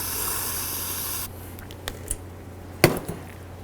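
A brief, close burst of aerosol spray hisses over a brake caliper bracket from a Dodge Journey, then cuts off, leaving a few light knocks and clinks.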